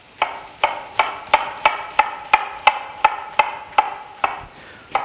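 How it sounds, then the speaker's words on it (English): A knife chops an onion finely on a cutting board in an even run of about fifteen crisp, close taps at a quick steady pace, with no voices. "I'm gonna cut this pretty fine."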